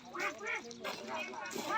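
A Muscovy duck quacks in short nasal bursts under a person speaking nearby, with some background noise.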